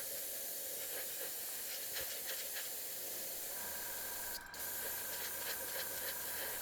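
An airbrush sprays thinner and leftover dark teal paint out through its nozzle, a steady broadband hiss running the full length with one brief dip in the middle, close and alone with no talking.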